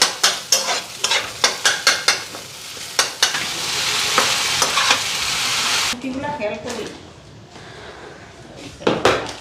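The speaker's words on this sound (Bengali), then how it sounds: "ডিমটা দিয়ে দিলাম আর ম্যাগিও হয়ে গেছে" An egg frying in a pan beside cooked Maggi noodles: a steady loud sizzle with sharp utensil clicks and scrapes, easing to a quieter hiss with scattered clinks toward the end.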